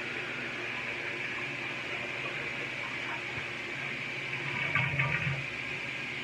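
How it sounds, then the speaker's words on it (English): Toilet flushing in a bathroom, a steady rushing water noise with a gurgling swell near the end, fairly quiet and alone. "Hold on 1 second, courtesy flush."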